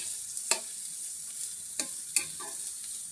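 Carrots and cabbage stir-frying in a pan give a steady sizzle, broken by a few soft scrapes of a spatula tossing the vegetables.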